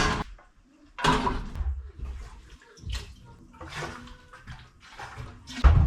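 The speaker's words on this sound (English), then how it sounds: "So I'm gonna put a little water in the bottom and then I will start heating that water." Water poured into the bottom of a pressure canner in a homestead kitchen in Alaska, a few splashing, rushing bursts of moderate loudness separated by short pauses, with clanks of the pot.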